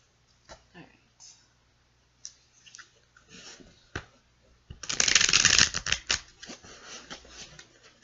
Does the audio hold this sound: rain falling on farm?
no